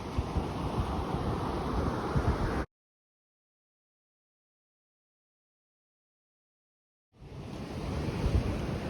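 Sea waves and wind at a beach lined with huts, a steady loud wash of surf and gusting wind noise, broken by a few seconds of complete silence before the roar returns.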